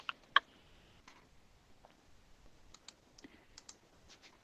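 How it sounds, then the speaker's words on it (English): Faint, scattered keystrokes on a computer keyboard as a job search is typed into Craigslist: a couple of sharper clicks early, then a light, uneven run of taps in a quiet room. "We're just going to type in dispatcher."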